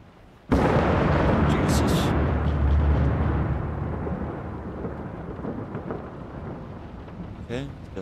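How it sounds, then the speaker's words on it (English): Thunder in the horror game Layers of Fear, a sudden loud crack that breaks into a long, deep rolling rumble and slowly fades, with a faint rain-like hiss underneath. "Thunder."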